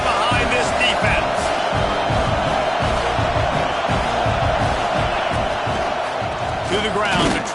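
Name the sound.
stadium crowd cheering at a football game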